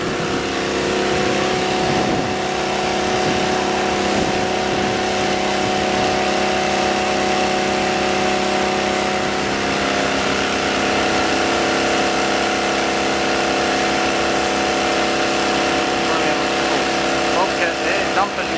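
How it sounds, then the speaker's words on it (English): Bobcat loader engine working during flood clean-up in Brisbane, dumping silt and mud into the back of a tip truck; a steady, loud mid-range engine drone runs throughout with little variation. "Bobcat there, dumping silt and mud in the back of a tip truck."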